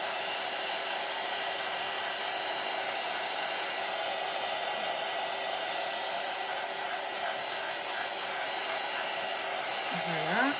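A heat gun blows in a steady, loud whirring rush while drying craft paint, running unbroken close by and rising slightly toward the end.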